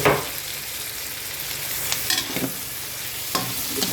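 Tomatoes, garlic, onion and meat sizzle in a pan as pinakbet is sautéed, a steady close frying hiss broken by a few scraping stirs of a utensil.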